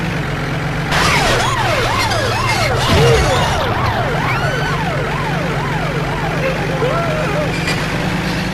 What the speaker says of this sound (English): I like how the siren doesn't start up again until after we hit it.